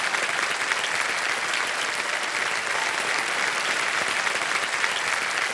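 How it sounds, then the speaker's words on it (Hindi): Loud, sustained applause from a studio audience on a televised quiz show, cheering a contestant who has just won a prize; dense steady clapping fills the whole stretch with no voices over it. "बहुत जोरदार तालियां बजे इनके लिए।"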